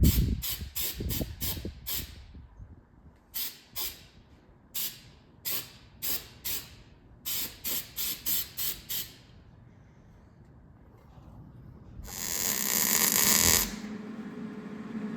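Short repeated hissing bursts from a pressurized spray can, sprayed in quick clustered pulses, followed by one longer sustained spray, close and loud, used during fabrication work on a Plymouth Duster.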